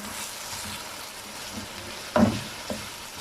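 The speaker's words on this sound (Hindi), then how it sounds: "अब इसमें अदरक का पेस्ट और हरी मिर्ची शामिल करेंगे। इसे भी 1 मिनट के लिए भून लेंगे।" Ginger paste and green chillies frying with potatoes for aloo pulao, giving a low, even sizzle interrupted by a single louder stirring scrape near the end.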